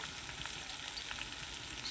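Spice masala with mustard paste frying in a pan, giving a continuous soft hissing sizzle with faint crackles, steady and quiet.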